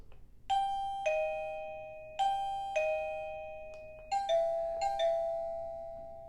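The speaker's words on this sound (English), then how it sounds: "I'm going to use the rapid ding dong sound for this UTX transmitter" An ERA-VPRX doorbell receiver plays its rapid ding dong melody, three clear two-tone chime pairs, each ringing out and decaying, close and alone in a quiet room.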